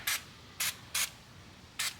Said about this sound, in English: So before you try to remove it, spray some WD-40 in there.